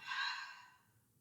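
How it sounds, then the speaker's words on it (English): An audible mouth exhale during a calming yin yoga session, a single soft breathy sigh that swells quickly, then fades out over about a second, close and quiet with no talking. "Inhale, exhale out of the mouth."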